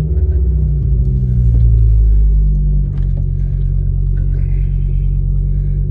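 A Ford Focus ST225 reverses back off ramps, its engine giving a loud close low rumble that swells briefly, dips, then settles into a steady idle with light clatter.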